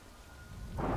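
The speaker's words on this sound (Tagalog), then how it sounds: "Good thing it was raining." Rain falling in the video game Death Stranding, a short steady downpour hiss that swells louder toward the end, with deep rumbling underneath.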